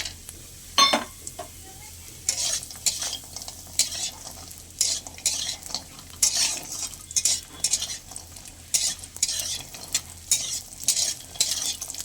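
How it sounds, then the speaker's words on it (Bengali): Lentil dumplings fry in hot mustard oil, a close bright sizzle with bursts of stirring and utensil scrapes against the pan, plus an early metallic clank; no voices. "তেলটা আমার গরম হয়ে গেছে, এবার বড়িগুলো ভেজে নেব।"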